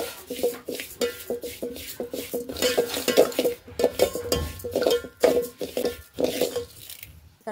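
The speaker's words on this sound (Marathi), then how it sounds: "तुपामध्ये खरपूस असे तांदूळ छान भाजून घ्यायचे आहेत आपल्याला" Rice stirred in ghee in a pot over a wood-fired stove, a utensil scraping and clinking against the metal in quick irregular strokes, close and fairly loud, with no voices.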